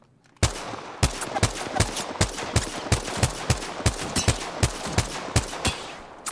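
Gunfire in the battle royale shooter Apex Legends, a steady series of about fifteen sharp, loud shots at an even, unhurried rhythm after a brief quiet start, with no talking over it.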